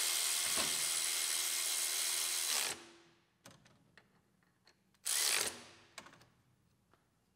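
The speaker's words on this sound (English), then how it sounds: "Cram our ratchet in there. because I'm lazy and I don't want to use a wrench." A ratchet tightens the pulley bolts on a 1993 Mustang GT engine, giving two long bursts of rapid clicking with scattered single clicks and knocks between them, close and clear.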